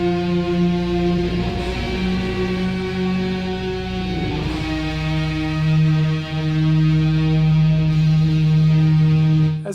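Drone metal, a loud sustained wall of distorted, droning amplifier tone with deep humming harmonics that barely changes over several seconds, with no voices.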